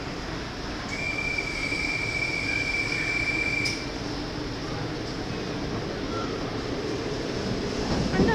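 A train rolls into Schiphol Airport railway station, a broad steady rumble of wheels on track with a brief high squeal early on, heard from the platform at moderate distance.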